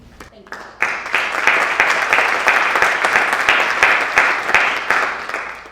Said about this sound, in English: may I request that you do not applause after every answer?